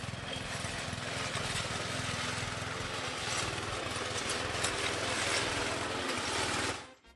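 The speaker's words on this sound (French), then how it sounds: "vous pouvez simplement fixer une tondeuse à gazon à un bâton?" A lawn mower engine fixed to a stick and used to trim hedges gives a steady, close buzzing drone with a rattling mechanical edge. It runs without pause for several seconds, then cuts off, with no talk.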